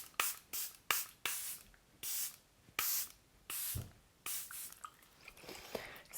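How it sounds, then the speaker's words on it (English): Charlotte Tilbury Airbrush Flawless setting spray misted from a pump bottle in a dozen or so short, close hissing spritzes, some quick pairs and some longer bursts, with quiet gaps between them and no talking. "So just a few spritz of this spray, let it dry"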